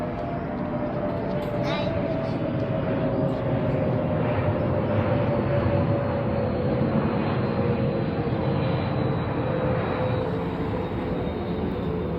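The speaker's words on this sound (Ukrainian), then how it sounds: "Туристичний літак." A steady, droning tourist airplane engine roars continuously at close range over the Bulgarian seaside, a constant broad rumble with a faint whine, with no pauses throughout.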